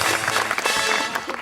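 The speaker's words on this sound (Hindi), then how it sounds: "इनके लिए ताली होनी चाहिए बहुत सारी।" Studio audience on a television talk show bursts into sustained, dense applause, loud and close, with a faint voice mixed in.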